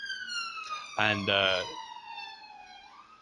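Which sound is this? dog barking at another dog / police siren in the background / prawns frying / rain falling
police siren in the background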